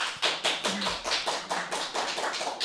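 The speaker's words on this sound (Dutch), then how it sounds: "het is een overweldigend applaus hier in de balie" Sustained applause for award winners at a Dutch education prize ceremony, steady crowd clapping with rhythmic tapping claps close by, a brief low voice tone early on.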